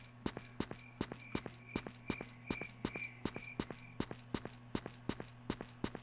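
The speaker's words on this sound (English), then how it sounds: "My footsteps are very loud." Footsteps in the video game Legend of Sword and Fairy 3.5: loud, evenly spaced sharp steps, about three per second, clicking crisply over a steady background drone.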